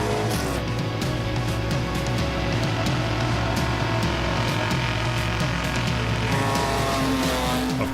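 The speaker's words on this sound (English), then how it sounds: "it's great to see old rare cars from brands like Marcos, Riley and MG being driven with gusto." Classic racing cars such as Marcos, Riley and MG driven hard at the Simola hill climb, engines roaring loud and close with revving, gear changes and squealing tyres filling the whole stretch.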